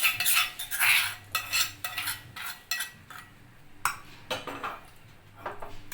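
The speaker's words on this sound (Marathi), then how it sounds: "या दुधीवर आता आपण ही आपली फोडणी टाकून घेऊया" A metal spoon scrapes and clinks against a pot as tempering is poured onto bottle gourd and stirred, a series of uneven rattling strokes, close and fairly quiet.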